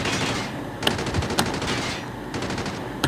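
Sustained automatic gunfire in Call of Duty Mobile aimed at a rock, rapid bursts with a few sharper cracks standing out, loud and continuous across the clip with no talking.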